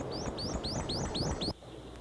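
A prothonotary warbler sings in the Okefenokee swamp, a run of about six sharp rising whistled notes in steady rhythm over a rumbling background, then it stops.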